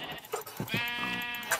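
Minecraft sheep bleat in a short, wavering cry that rises clearly after a couple of soft thumps, then trails off, fairly close and alone without talk.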